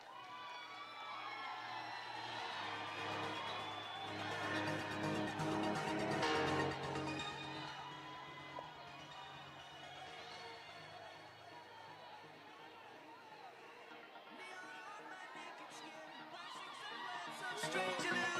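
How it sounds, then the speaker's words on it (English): A college centenary celebration crowd cheers and shouts after a student dance performance is announced. Excited whoops and chatter swell over about eighteen seconds, with music tones mixing in. "Please give them a huge round of applause."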